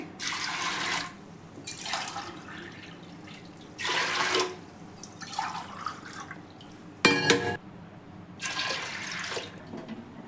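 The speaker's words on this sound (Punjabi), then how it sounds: "ਹੁਣ ਆਪਾਂ ਇਹਦੇ ਵਿੱਚ ਪਾ ਦਵਾਂਗੇ 3 ਗਲਾਸ ਪਾਣੀ ਦੇ" Water poured from ordinary glasses into a pressure cooker, heard as several separate splashing, gurgling bursts a second or so long with quiet gaps between them, close and fairly loud, no voices.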